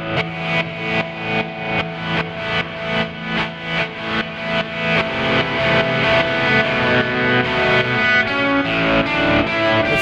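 Kemper auto panner guitar effect in stereo, heard as a continuous distorted electric guitar riff with steady rhythmic pulses sweeping in volume, loud and close with no talking.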